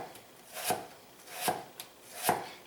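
A knife rocks through potatoes on a cutting board in three evenly spaced, crisp chops about three-quarters of a second apart, close and fairly loud, with no voices.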